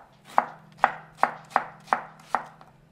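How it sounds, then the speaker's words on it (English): A knife thinly chops an onion on a cutting board, six crisp, evenly spaced knocks about half a second apart under a faint steady kitchen hum. "we're just gonna take an onion, and I'm just gonna really nicely, thinly chop this."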